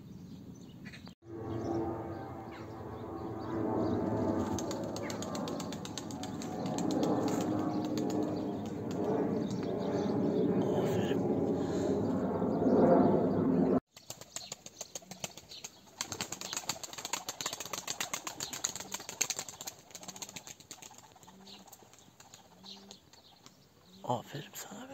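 Tumbler pigeons in Ankara flapping their wings in flight, a dense rustling flutter heard over outdoor background noise, with a voice speaking over the later part.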